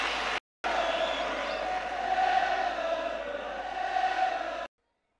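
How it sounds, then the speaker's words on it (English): Crowd cheering and whooping on a live concert recording, a dense, steady roar of voices that cuts out briefly near the start, then swells and holds before stopping abruptly. "it sounds like they're like cheering"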